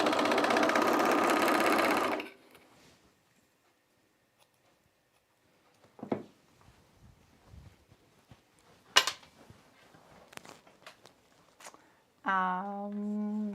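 A sewing machine runs in a loud steady burst while stitching the crotch curve of Mitchell trousers, then stops; soft handling clicks and rustles follow, and a brief tonal beep or hum closes it.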